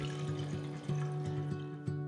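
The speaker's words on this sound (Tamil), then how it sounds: "ஒரு பாத்திரத்தில் கொஞ்சம் தண்ணி ஊற்றி" Water is poured into a cooking pot while making khara bath, a faint trickle over a steady electrical hum with a few soft clinks.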